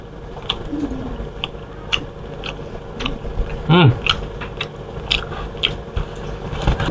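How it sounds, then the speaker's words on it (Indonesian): Crispy fried chicken (ayam penyet) with sambal is bitten and chewed up close, producing repeated crunchy bites and a steady run of mastication, with a brief vocal sound partway through. "untuk ayamnya itu renyah sekali, Capo. Masuk di mulut langsung kayak terhambur."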